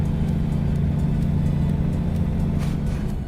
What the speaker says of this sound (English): You just hear your engine churning.